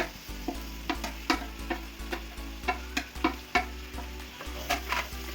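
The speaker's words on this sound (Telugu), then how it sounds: "బాగా కలుపుకొని టమాటోని కొంచెం వేగనివ్వండి" Soya chunks and chopped tomatoes fry in a pan with a steady sizzle, a regular series of spoon scrapes and knocks, and a low hum underneath.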